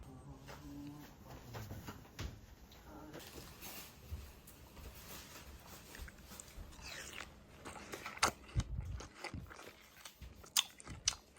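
Crunchy bites and wet chewing of a juicy star-shaped fruit (starfruit) on Ishigaki, with sharp crisp crunches spaced through the clip, loudest near the end, close to the mic against light background noise.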